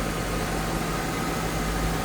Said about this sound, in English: There's that V8 power underneath the hood.